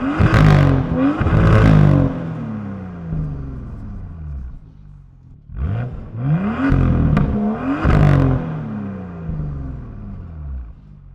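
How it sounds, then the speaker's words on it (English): A BMW F87 M2 inline-six barks through an M Performance exhaust, loud close revs rising and falling in two bursts separated by a brief lull, with no talking over it. "Personally, probably one of the best sounding inline sixes, especially ones that BMW has made in the past."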